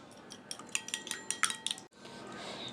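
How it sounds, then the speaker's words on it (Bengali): An egg being beaten in a bowl for noodle egg chops: a quick run of light, irregular clinks and taps of a utensil against the bowl, close and fairly faint, followed by a brief gap and soft handling sounds. "আমি একটা ডিম ফেটে নিচ্ছি"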